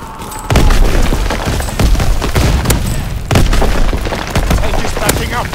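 Call of Duty WWII battle: booming cannon and gunfire bursts around an advancing tank, loud repeated blasts over a rumbling background.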